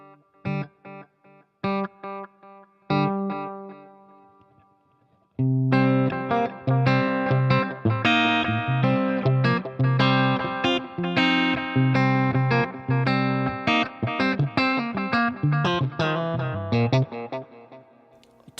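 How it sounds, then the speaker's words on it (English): Electric guitar played through a Wampler Ethereal reverb/delay pedal: a few sparse notes ringing out with echoing tails, then a busier run of picked chords and melody washed in reverb and repeating delay. "Let me turn the reverb up just a little bit."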